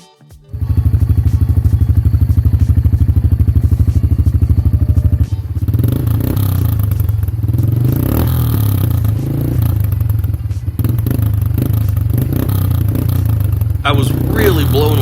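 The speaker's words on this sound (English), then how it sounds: "I was really blown away on how nice this exhaust sounded, especially for being a smaller cc motor." Honda 300 Fourtrax 4x4 ATV fitted with an aftermarket sport bike exhaust starts up and idles, a steady deep throbbing that turns rougher and more uneven partway through, loud and close.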